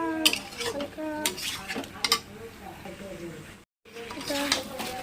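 Chicken being stir-fried village-style in a pot, with repeated scraping and clinking of a metal spoon against the pot and faint sizzling underneath; a voice talks over much of it.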